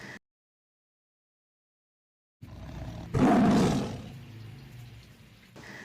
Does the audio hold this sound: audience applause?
no